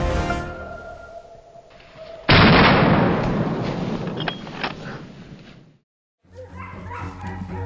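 Hunting dogs bark during a wild boar chase in a forest, a loud burst of barking mixed with harsh noise that stops abruptly, followed by more distant activity.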